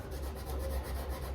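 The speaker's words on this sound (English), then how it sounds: "So I'm gonna sand everything with 320. And on these edges here, I like to use just a gray Scotch pad" A gray Scotch pad rubs steadily back and forth over the edges of a painted piece, a close, continuous abrasive scuffing with no speech.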